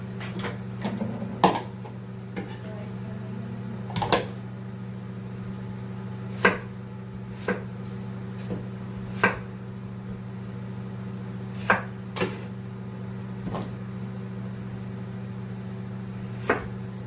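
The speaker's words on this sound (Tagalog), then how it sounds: "Hihiwain ko ng maliit-liit itong sayote." A knife chops chayote into small pieces on a board, irregular, sharp taps every second or so over a steady low hum, close and fairly quiet.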